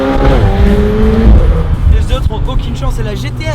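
Supercar in a convoy of supercars accelerates hard, engine note sweeping upward and then shifting, loud and close, with someone talking over it throughout.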